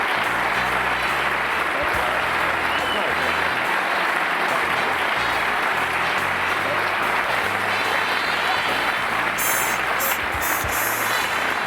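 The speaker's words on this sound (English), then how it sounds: "I'm humbled by that applause." A large studio audience at a late-night talk show breaks into loud, dense, sustained applause that fills the whole stretch evenly, with a faint whistle or cheer near the end.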